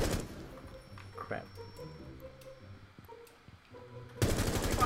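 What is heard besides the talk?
gunfire in the video game Rainbow Six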